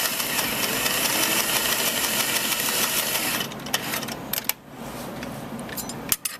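Sewing machine top-stitching a patch pocket with a guide, running steadily for about three seconds and then slowing into short bursts and clicks as it back-stitches, close and clear with no talk.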